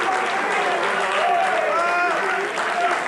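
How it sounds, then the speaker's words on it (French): Audience applauding for company drivers at a bakery staff gathering, a steady clapping wash with voices mixed in underneath. "j'aimerais que vous applaudissiez tout simplement."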